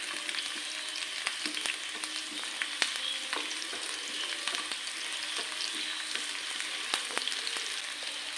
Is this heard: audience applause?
no